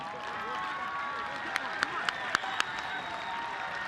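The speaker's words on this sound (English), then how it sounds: "A hearty round of applause from the home fans for a nearly perfect first half." Home fans at a soccer match applaud at halftime, a distant, steady wash of crowd clapping and cheering with a few sharp claps standing out, heard under a voice talking.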